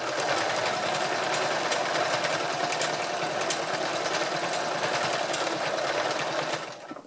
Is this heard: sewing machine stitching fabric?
yes